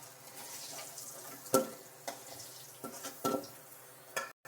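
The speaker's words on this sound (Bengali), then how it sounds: "তো আলুগুলো প্রথমে একটু ভেজে নিচ্ছি" Potatoes frying in a pan in a Bengali home kitchen, a soft steady sizzle broken by a few clinks and scrapes of a spatula stirring against the pan.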